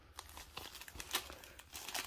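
A Yu-Gi-Oh! card pack wrapper being torn open, soft irregular crinkles and tearing bursts, quiet and close.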